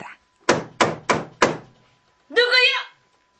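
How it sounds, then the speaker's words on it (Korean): Four sharp knocks on a wooden door land in a quick, evenly spaced row, loud and close. After a short pause a voice calls out. "그는 다시 문을 두드렸다."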